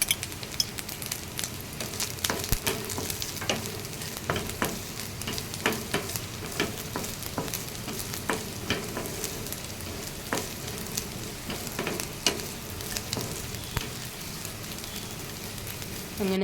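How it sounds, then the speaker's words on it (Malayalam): Grated coconut with turmeric powder sizzles and crackles steadily in an iron pan, a dense continuous frying hiss with occasional stirring scrapes, close and fairly loud throughout. "അപ്പം തേങ്ങ ഇങ്ങനെ ഫ്രൈ ചെയ്ത് വരുന്നുണ്ട്."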